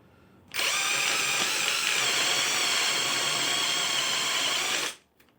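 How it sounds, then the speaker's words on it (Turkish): A RoWn flaring tool, run by a power drive, flares the end of a copper pipe, a steady high-pitched whirring hum that starts abruptly, holds for about four seconds, and stops cleanly, close and alone. "Havşamızı açıyoruz."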